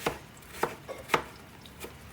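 Potatoes for lentil soup being chopped on a board, four or five crisp knife strikes at close range in an uneven rhythm.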